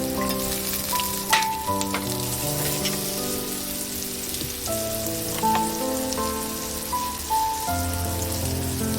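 Chillies, curry leaves, mustard seeds and tomato hit hot oil for a tempering in spiced rice, giving a steady close crackling sizzle with sharper pops, and a sustained tonal melody runs underneath throughout.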